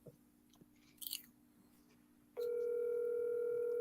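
Steady telephone dial tone from a late-night call at midnight, starting abruptly partway through after a quiet stretch with a brief rustle, then holding loud and constant to the end.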